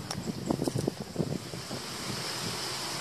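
Wind gusts across an open rice paddy, a steady broad rush that swells and buffets the microphone, with a few soft rustling knocks early on and no voices.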